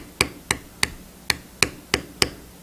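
Seven sharp, evenly spaced mallet strikes on a leather beveling tool ring out close and crisp while carving eagle wing feathers into leather, each knock decaying quickly into quiet.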